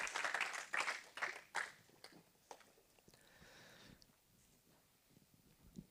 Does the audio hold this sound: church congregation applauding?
yes